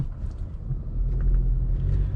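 Cabin of a 9th-generation Honda Accord with an intake mod and the resonator removed, out on a drive: a steady, deep engine rumble and road drone fill the interior, with no talking.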